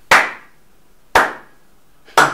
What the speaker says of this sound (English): Let's bring back the slow clap.